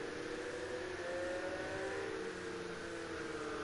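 Race cars in a sim racing game run down the straight at Spa, engines droning steadily at high revs, with slight pitch shifts as one car slipstreams and overtakes another. The sound is continuous and moderately loud, with no talk.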